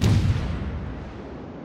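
A single heavy gunshot boom fires in a team-based video game, loud and sharp at the onset, then decays into a fading low rumble over about a second and a half.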